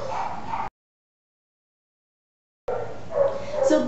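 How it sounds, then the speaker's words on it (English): Dogs at a pet groomer next door bark in two short bursts, loud and close, separated by a stretch of silence. "I'm sorry for the barking dogs"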